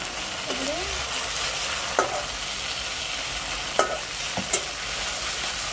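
Spice paste with salt and turmeric frying in a pan, giving a steady loud sizzle throughout, broken by a few short stirring scrapes, cooking outdoors on a rooftop, no talk.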